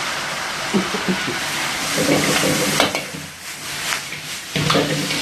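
A spoon scrapes and stirs a hot, sizzling chicken chili sauce mixture with salt, sugar, white pepper and chicken powder in a restaurant-style street-food pan, with loud, continuous frying and clattering metal strokes.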